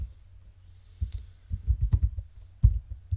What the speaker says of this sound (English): So I want to keep typing some other credits here.